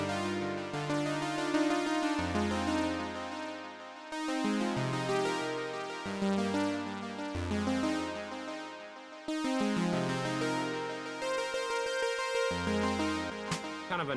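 Omnichord playing a chorus part with a little echo, bright harmonic chords changing every couple of seconds over a low bass pulse, clear and alone without talk.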